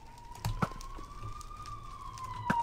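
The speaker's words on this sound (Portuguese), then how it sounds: "Uma ambulância, manos" An ambulance siren from the Minecraft video game sounds as a steady, thin wailing tone that rises and falls gently throughout, heard at moderate level under scattered game clicks and thuds.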